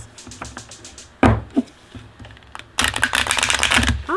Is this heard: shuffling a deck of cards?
yes